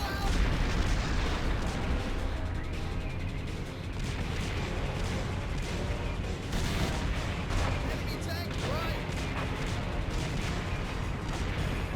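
Dense, continuous barrage of booming cannon fire and explosions from a Namco arcade game, loud and relentless for the whole stretch with no pause, thick with low rumble and overlapping impacts.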